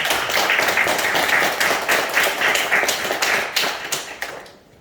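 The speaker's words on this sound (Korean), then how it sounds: "박수로 하나님께 한번 드리겠습니다" A church congregation claps in a dense, steady patter of many hands that keeps going for several seconds before it stops abruptly.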